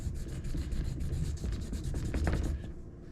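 Polishing compound rubbed onto leather to make a strop, a close, quiet, rhythmic rubbing in quick back-and-forth strokes that stops just before the end, no voices.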